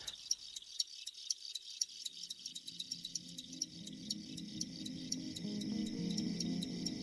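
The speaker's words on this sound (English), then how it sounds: "the sound of a chorus of crickets is rivaled only by ocean waves or wind through aspen trees" Crickets chirp in a rapid, regular pulsing chorus, steady throughout, with a low rumbling background rising toward the end.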